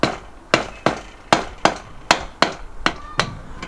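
A rubber mallet strikes a Honda VFR750 RC36 motorcycle rear wheel in a run of nine sharp, close knocks spaced about every third of a second, each ringing briefly.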